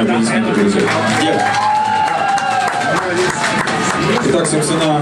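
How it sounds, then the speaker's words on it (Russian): An audience in a rock bar applauds and cheers, loud clapping mixed with shouts and whoops, while voices call out over the crowd. "Ну где ваши полные аплодисменты, друзья?"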